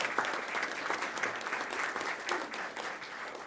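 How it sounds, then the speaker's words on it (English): Steady applause from a school board meeting audience honoring high school students, many hands clapping in an even, continuous patter at moderate distance. "Let's have a nice round of applause for those great students."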